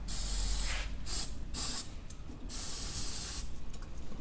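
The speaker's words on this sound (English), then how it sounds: "I'm gonna use a brake clean and spray this baby out first" Brake cleaner sprayed from an aerosol can onto the front brake assembly of a 2018 Acura MDX, several close, loud hissing spray bursts in quick succession over a steady low rumble.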